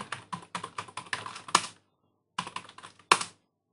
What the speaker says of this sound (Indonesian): Saya ketikkan yang benar.